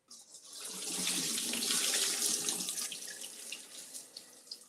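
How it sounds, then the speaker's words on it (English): Cloudy water drains and splashes steadily into a sink in a close, continuous rushing stream that swells and then tapers over a few seconds. "So y'all see all this cloudy water. This is what we're gonna drain off."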